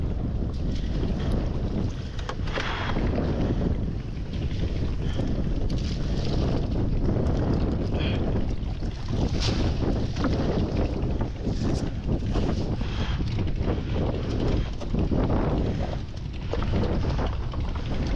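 Strong wind buffets the microphone continuously during trap hauling on the water in stormy weather, a dense, steady roar with gusty bursts and no voices.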